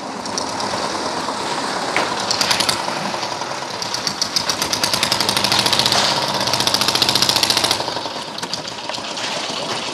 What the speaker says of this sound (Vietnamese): Này kéo bê tông lên nè, kéo bê tông tươi lên nè.